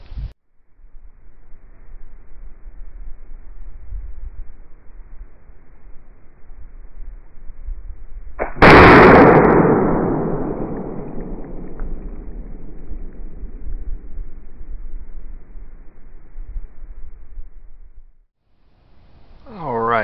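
A single French Grenadier musket shot fired in the woods: a sharp, loud report midway through, with a long rumbling decay trailing off over several seconds against faint outdoor ambience.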